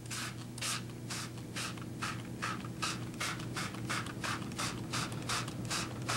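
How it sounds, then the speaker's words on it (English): A spray bottle's trigger is pumped over and over in a quick, even rhythm, sending bursts of water onto an acrylic painting on paper. Each squirt is crisp and close against a low steady hum. "spray it with water, and see what happens."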